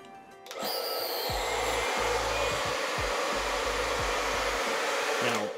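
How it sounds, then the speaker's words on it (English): Hair dryer blowing steadily to defrost an RV fridge and freezer, a loud continuous whirring roar that starts after a short pause and runs to the end, with bumps and knocks of handling underneath. "Should I use the blow dryer first?"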